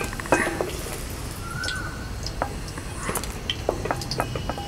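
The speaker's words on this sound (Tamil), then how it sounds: "இப்போ எல்லா கத்திரிக்காயும் நம்ம எடுத்துடலாம். ஒரு 5 நிமிஷம் வதக்கினா போதும்" Eggplant pieces sauté in oil in a pan, a soft steady sizzle broken by scattered clinks and squishy stirring sounds close by.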